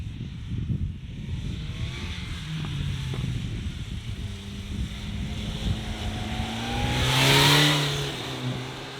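BMW S 1000 R four-cylinder motorcycle engine on a racetrack lap, droning steadily with rising and falling revs, swelling louder near the end under strong wind rush.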